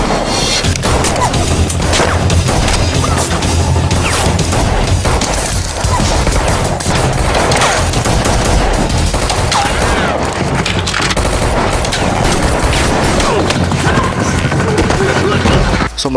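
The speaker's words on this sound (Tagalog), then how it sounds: "So ito yung gunfight nila doon sa tunnel din." Dense, loud gunfire from a film gunfight in a tunnel rips continuously with sharp impacts and booms, echoing as if in an enclosed space.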